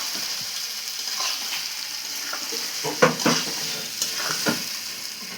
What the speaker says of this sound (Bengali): এবার ভালো করে কষে নিয়ে এই সিদ্ধ করা ওলগুলো দিয়ে দিচ্ছি।